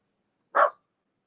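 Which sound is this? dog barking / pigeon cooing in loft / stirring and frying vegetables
dog barking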